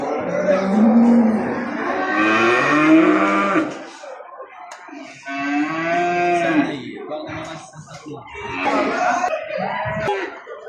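Calves bawl repeatedly in long, strained moos, close and loud, with brief pauses between calls and faint background noise.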